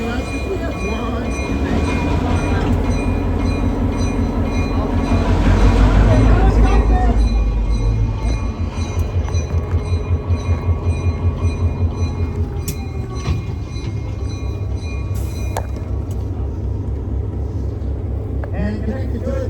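A CSX EMD diesel locomotive built in 1982 passing, with heavy low rumble swelling and fading, then rhythmic clacking of wheels over rail joints; someone talks over the passing train.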